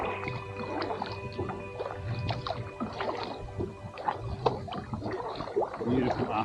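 Kayak paddling on shallow water near Motuora, with gurgling splashes and drips from the paddle strokes close by under steady wind and a voice talking over it.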